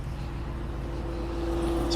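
A 2020 RAM 2500 Tradesman pickup with the 6.4 Hemi engine runs at a steady, quiet idle, a low continuous drone with a faint hum and no voices.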